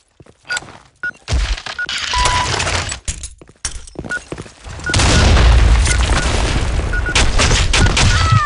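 A planted bomb goes off in the Blackshot shooter game, a string of loud booming blasts and crackling debris that swell into a sustained roar through the second half.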